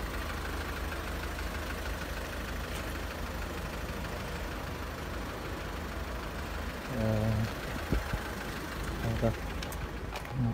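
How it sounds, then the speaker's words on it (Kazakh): A brand-new SsangYong fitted with a Mercedes engine idles with a steady, low, even hum, close and continuous, with muffled voices and brief knocks near the end. "Мерседестің моторы болады бұда."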